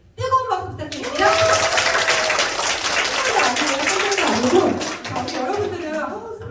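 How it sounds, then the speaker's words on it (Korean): Warm applause rises from a seminar audience in Yongin, a dense wash of clapping that swells after a spoken lead-in and carries for several seconds, with a presenter's voice over it before and after. "뜨거운 박수 부탁드립니다"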